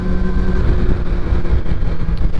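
A Yamaha R6 sport motorcycle engine revving to 16,500 rpm drones steadily and roughly throughout, a continuous mechanical roar with a low rumble, close up and alone.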